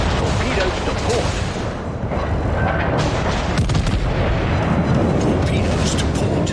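Naval gunfire from warships in World of Warships, heavy booming salvos rolling continuously under a dense battle din, with voices speaking over the fighting.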